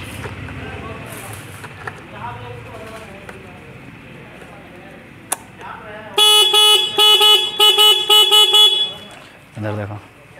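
A loud Honda Dio scooter horn, just repaired, sounds in a sustained series of honks for several seconds, close by, followed by a shorter honk after quieter background sounds and some talk.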